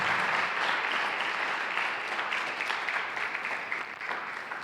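Church congregation applauding during a Spanish-language sermon, dense and loud sustained clapping from many people that eases off slightly toward the end.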